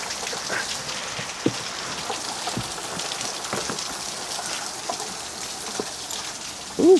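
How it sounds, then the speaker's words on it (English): Rain falls steadily outdoors on a stormy Fourth of July weekend near an abandoned Mazda Miata, a constant hiss with scattered sharper drops and a brief close thump near the end. "it's raining"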